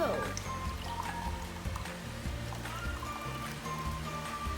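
Warm water is poured and stirred with borax for homemade purple slime, giving a continuous trickling, sloshing wash with low clatter underneath, close by.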